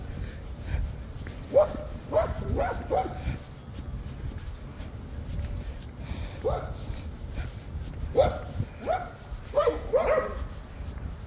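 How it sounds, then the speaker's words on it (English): Several caged dogs bark excitedly in short bursts and yips at moderate distance over outdoor background noise, with some footsteps and a person talking nearby. "Look at dogs. I get all excited when they see people."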